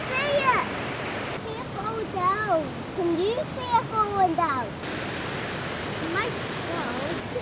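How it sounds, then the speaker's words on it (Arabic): A small outdoor waterfall of brownish, metallic-looking water gives a steady, broad rushing hiss throughout, while someone talks over it nearly the whole time. "شايفين ده شلال صغير اهو، مش عارف سامعين الصوت ولا لا، بس ده شلال"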